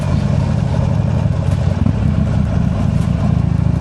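A used motorcycle that is burning a little oil and smoking idles steadily and loudly up close, a dense low rumble running unbroken for the whole stretch without any revving.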